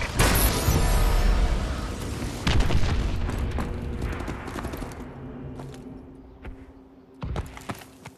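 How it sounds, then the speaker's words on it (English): A missile strike in Call of Duty Advanced Warfare lands as a heavy, loud boom that rolls and fades over several seconds, followed by a few smaller pops and bursts. "Friendly missile strike inbound."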